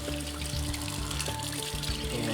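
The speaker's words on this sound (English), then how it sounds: "you'll want to use cold, clear tap water." Cold tap water running steadily from a faucet over flood-damaged photographs, a close, continuous splashing trickle with no voices.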